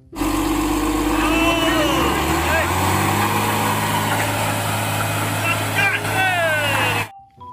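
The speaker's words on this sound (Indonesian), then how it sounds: "Lihat, ada mobil truk tangki panjang." A toy long tanker truck gives off a droning, electronic engine hum, steady and close, with whistling sweeps over it, ending in a sudden cutoff.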